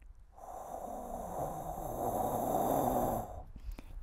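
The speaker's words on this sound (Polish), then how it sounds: "I chucham sobie w łapkę." A long, steady exhaled breath is blown out onto cupped hands to warm them, close and breathy, lasting about three seconds before fading.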